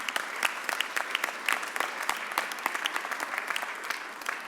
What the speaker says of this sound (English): So please give my members a real big round of applause.